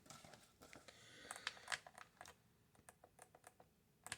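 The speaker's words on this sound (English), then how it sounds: "that clicky noise is if you press down on the analog stick" A PlayStation controller analog stick pressed down repeatedly, giving quiet, scattered plastic clicks close up in an otherwise hushed room.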